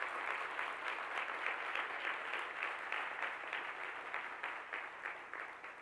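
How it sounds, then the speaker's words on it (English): Audience applauding students at an annual lecture series event, many hands clapping in a steady, fairly distant and faint wave that rolls on for several seconds without talk. "Join me in applauding the students who are with us on this occasion."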